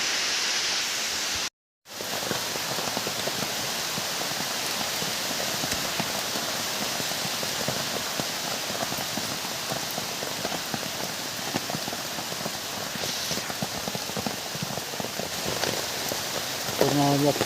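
Heavy rain pours steadily in a Konkan jungle, a dense, even hiss of drops hitting leaves and ground that holds constant for the whole stretch after one brief dropout near the start.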